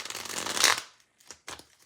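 Cards riffle in a quick burst, followed by two short flicks of cards being handled, close up and crisp.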